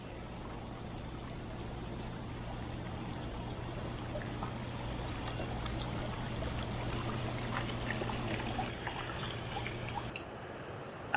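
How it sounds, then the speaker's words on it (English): A small trickle waterfall by a hotel pool in Key West, Florida, makes a soft, continuous splashing hiss, faint and steady throughout. "Got a little trickle waterfall here."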